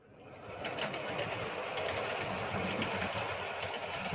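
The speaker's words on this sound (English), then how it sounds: "Let's run a train." A model railway train runs steadily along a layout, its continuous whirring, rattling motor and wheel noise holding at a moderate level after a quick start, with faint repeated clicks as it travels over the track.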